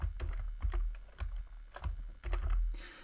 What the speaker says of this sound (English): as I type in the forename